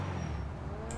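A car engine idling in GTA V, a low steady rumble held constant and close throughout the second.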